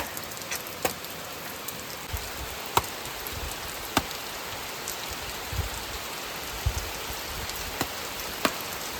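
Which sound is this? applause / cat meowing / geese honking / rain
rain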